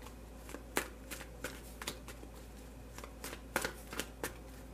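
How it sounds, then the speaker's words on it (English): Soft, rapid riffling of a deck of tarot cards being shuffled, a series of quick crisp flutters close by in an otherwise quiet room. "I have pre-shuffled this deck, so I'm only going to shuffle it for a moment"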